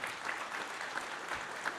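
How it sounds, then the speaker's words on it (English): Audience clapping in a conversation session, a brief, fairly quiet burst of applause with a few distinct claps standing out, no talk over it. "Give a round of applause for that."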